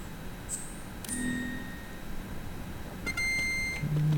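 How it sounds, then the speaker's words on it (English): Electronic beeps and chirps from the video game Metal Gear Solid 2: a few short high bleeps, then a longer sustained tone and a low buzz near the end, over a faint background hum. "Beep beep."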